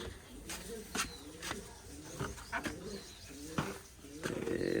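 Soft, low pigeon coos repeat in short bursts, mixed with clicks and rustling nearby.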